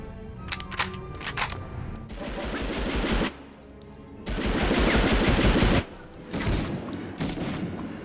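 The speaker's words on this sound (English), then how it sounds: "All the guns sound really good and impactful and really emphasize hitting your enemies." Gunfire in the 1999 video game Medal of Honor, loud bursts of rapid automatic fire with punchy single shots and booming impacts, broken by short pauses between volleys.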